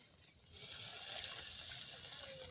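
Water pours in a steady, soft hiss while a little is added to a mustard-poppy seed steamed egg dish. The pour starts after a brief quiet moment and stays faint and continuous.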